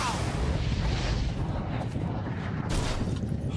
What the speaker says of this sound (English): This is compact, compact rocket sled in